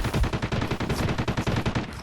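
Rapid automatic gunfire from a gunfight in the mobile shooter game Delta Force Mobile, a loud continuous burst of closely spaced shots running the whole time with no pauses.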